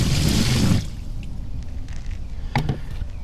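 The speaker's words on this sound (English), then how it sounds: "we're going to dump the water in" Water dumped in a single loud rush into a mixing tub during mushroom substrate preparation, a heavy splash lasting under a second, then quiet handling knocks and a short clatter.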